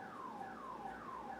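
A faint electronic alarm siren wails steadily in the background during a live oil painting session, its repeated falling sweeps continuing evenly with no talk over it.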